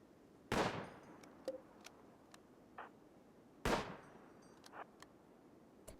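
Gunfire in the video game Rimworld: two sharp, loud shots about three seconds apart, each followed by a quick fading tail, with small clicks and ticks scattered in between.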